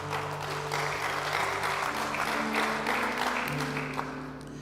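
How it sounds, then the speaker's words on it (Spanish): A church congregation applauds for Jesus, dense sustained clapping over a held musical drone, loud and close, swelling slightly before easing near the end, with no clear voices. "Vamos, denle ese aplauso a Jesús."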